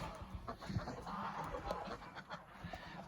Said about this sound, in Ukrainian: Наші гусі контролюють усе.